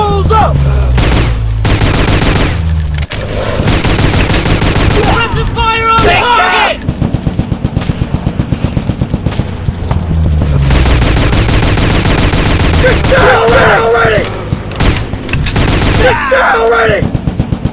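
Gunfire in a mobile shooter video game: loud, dense bursts of rapid automatic shots with heavier booms, nearly continuous, mixed with shouted game voices.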